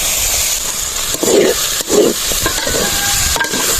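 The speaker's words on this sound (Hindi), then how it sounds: "कसूरी मेथी को थोड़ी देर पकाने के बाद इसमें शामिल करेंगे लहसुन और सब्ज़ मिर्च" Kasuri methi fries with garlic and green chilli in a pan for a methi aloo dish in a village kitchen. A steady sizzling hiss runs throughout, broken by a couple of stirring scrapes.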